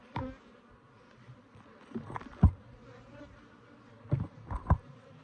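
Open hive of Cordovan F2 Italian/Africanized hybrid honeybees buzzing steadily at close range, a dense insect drone with a few louder bursts as bees fly near.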